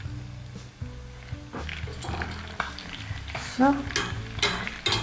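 A small piece of chicken pakoda drops into hot oil and sizzles steadily, with crackling frying bursts and a brief spoken word over the noise.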